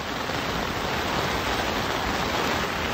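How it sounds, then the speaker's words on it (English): Heavy rain drums steadily on an easy-up canopy overhead during an Ohio storm, a dense, even, close hiss with no let-up and no voices. "You can hear the rain on top of us."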